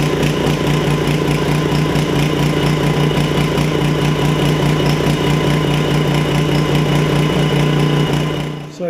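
An 8 hp Briggs & Stratton engine fitted with a carburetor swapped in from an old engine runs steadily at a loud, even idle, a continuous droning hum lasting several seconds before cutting off abruptly at the end.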